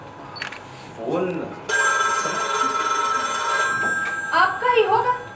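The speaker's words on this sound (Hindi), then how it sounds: "फोन" A telephone rings continuously for a couple of seconds during a Hindi stage play performance, with actors speaking before and after the bell.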